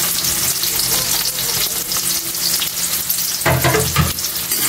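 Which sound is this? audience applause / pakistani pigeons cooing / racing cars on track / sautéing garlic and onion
sautéing garlic and onion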